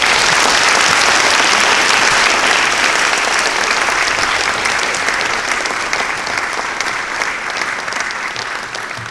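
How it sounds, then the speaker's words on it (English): A large crowd at the American Academy graduation ceremony of 2018 gives the valedictorian a long, loud, steady round of applause that tapers slightly near the end, with no voices over it. "would everyone please give a giant round of applause for Peter"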